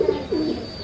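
Pigeons coo close by in two soft, low rolling calls, the second longer and warbling, over a quiet background.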